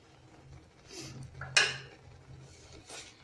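Boiled Maggi noodles are stirred in a metal pan as tastemaker and Schezwan chutney are mixed in, giving soft scraping and a few sharp clinks of a utensil against the pan, fairly close and quiet.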